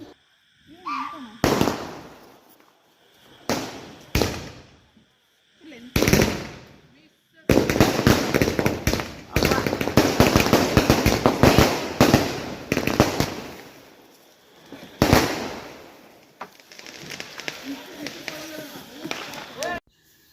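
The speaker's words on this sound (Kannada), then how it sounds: "ಇನ್ನು ಇವಾಗ ಮೇಲೆ ಹೋಗಿ ಸೌಂಡ್ ಮಾಡುತ್ತಲ್ಲ ಅದನ್ನು ಅಂಟಿಸ್ತಾರೆ" Loud aerial firecracker bursts crackle in scattered volleys, then a long, dense barrage of rapid pops and bangs, with voices heard between the blasts.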